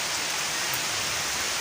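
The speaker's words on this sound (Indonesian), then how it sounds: "Aduh, hujan raya." Heavy rain pours down in a dense, steady hiss that fills the whole moment, loud and close, with no voices over it.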